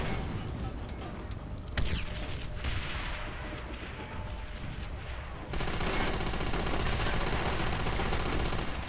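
Gunfire from the video game Call of Duty: World at War, with bursts of automatic fire and scattered shots in a dense, continuous battle din that grows heavier partway through.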